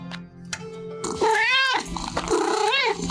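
In a crime-solving video game set in the Old West, cats meow loudly up close, two drawn-out rising-and-falling calls after some quiet clicks, with no talking.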